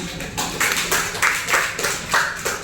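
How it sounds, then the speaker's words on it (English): Audience at a hospital's National Nutrition Month program gives a round of applause for the speakers, a nearby burst of hand claps swelling and fading in uneven waves for a few seconds. "another round of applause for our speakers."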